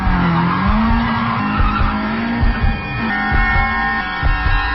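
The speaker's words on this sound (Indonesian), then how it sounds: "aku menginjak pedal gas dalam-dalam dan melaju kencang" A car accelerating hard for a radio drama roars in a steady, loud engine drone with rising pitch and tire-like squeal, continuous and alone.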